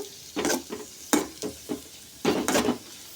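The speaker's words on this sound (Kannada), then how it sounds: "ನಾನೀಗ ಅಂಟನ್ನು ಹುರ್ಕೋತಾ ಇದ್ದೀನಿ" Edible gum is roasted in a pan, with a few short scraping stirs and light sizzling crackles in uneven bursts, close and fairly quiet.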